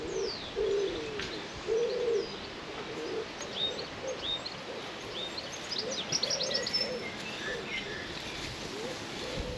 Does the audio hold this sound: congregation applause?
no